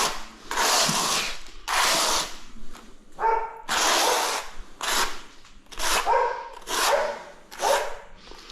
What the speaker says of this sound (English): The doggies are woofing